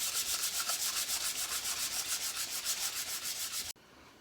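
Rhythmic strokes of fine 2000-grit sandpaper rubbed along a knife blade, a steady back-and-forth scratching that repeats about three times per second, close and alone, stopping abruptly near the end.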